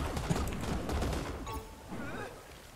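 Dense bursts of gunfire from the video game Hawked, several shots rattling close together in rapid volleys and then easing off, with a voice talking over the action.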